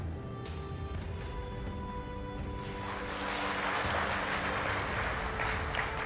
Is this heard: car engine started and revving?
no